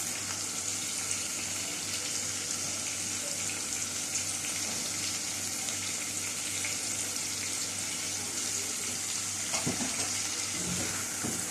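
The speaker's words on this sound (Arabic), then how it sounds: "هقعد اشوح فيه كده لحد ما يدبل تماما" Minced meat with onions sautéing in a pan, a soft continuous sizzle with occasional faint stirring scrapes, close and fairly quiet, no voices.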